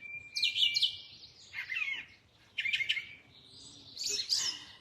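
Several bursts of high, bright bird chirps and twitters, fairly close, in a quiet outdoor setting with no one talking.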